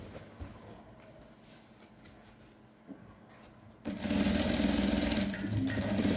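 Sewing machine stitching a trouser waistband, a quiet steady whir that suddenly jumps to a loud, fast continuous run partway through.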